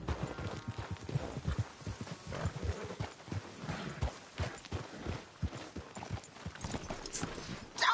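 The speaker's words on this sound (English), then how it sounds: "Damn horse acting up on me." Steady horse hooves clip-clop in a quick, continuous rhythm throughout in Red Dead Redemption 2, close and clear, with faint scattered background noise.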